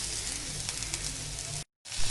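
Carrot, onion and capsicum sizzle and fry in a pan with a steady, close crackling hiss that cuts out briefly near the end, then returns.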